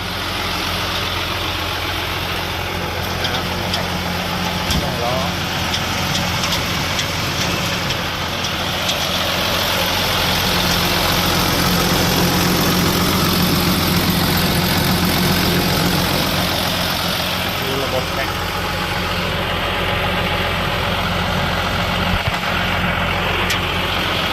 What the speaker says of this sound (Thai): เครื่องยนต์ดีเซล6สูบมิตซูบิชิ